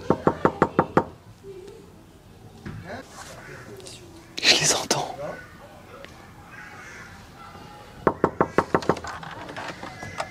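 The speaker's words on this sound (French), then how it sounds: "Et on va aller toquer à leur porte." Knocking on a door at a home during a street outreach visit, a quick burst of about six sharp raps followed by a quiet pause with muffled sounds, then a second burst of about six raps.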